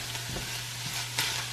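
Ground beef and onion frying in a pan, a low steady sizzle with a few soft scrapes of stirring and one brief louder scrape near the end, no voices.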